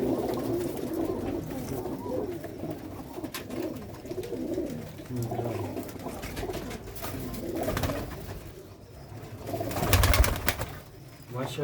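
Pigeons of a long-legged Sialkoti breed coo repeatedly in soft, throaty phrases at close range, with occasional rustles and a brief louder burst near the end.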